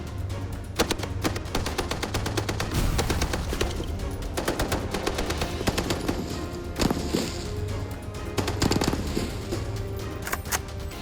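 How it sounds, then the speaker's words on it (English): An M2 heavy machine gun fires sustained bursts at milk jug targets, a loud, dense, continuous rattle of rapid shots with brief breaks between volleys, booming and close throughout with no talk. "I've got some milk jugs for you to shoot. It's gonna make a mess."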